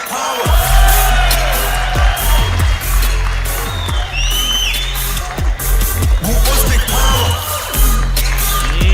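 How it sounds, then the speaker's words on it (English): Crowd roaring at an MMA championship as an Uzbek fighter is introduced, a loud, sustained mass of cheering and shouting with whoops and occasional bangs throughout. "You hear that roar of the crowd."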